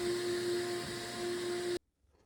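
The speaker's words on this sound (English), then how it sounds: "This is a vacuum system." A steady mechanical drone with a constant whine from a vacuum clamping system running on a CNC milling setup, cutting off abruptly near the end, leaving near silence.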